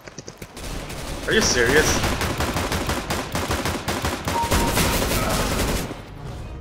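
Shotgun fire in a video game: a dense run of booming blasts and gunfire crowding the whole clip, loud and close, with someone speaking briefly over the shots.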